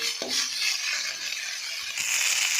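Bottle gourd leaves sizzle steadily in a hot pan, a dense close frying hiss with a couple of soft stirring knocks, no voices.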